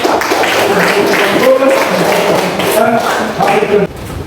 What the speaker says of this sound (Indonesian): Ya, tepuk tangan untuk nomor 3